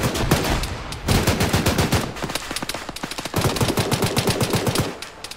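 Rapid machine-gun bursts and single gunshots from the military shooter Arma 3, loud and close, firing in dense rhythmic strings with brief pauses over about five seconds.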